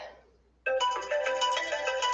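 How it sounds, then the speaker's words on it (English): A computer notification chime warning that a mouse battery is low, a bright tonal alert with several short sustained notes rising suddenly out of near silence and holding steady, close and clear with no talk. "I just got a notification that my mouse battery is about to die"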